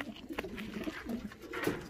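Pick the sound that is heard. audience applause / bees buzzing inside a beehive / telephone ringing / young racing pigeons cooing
young racing pigeons cooing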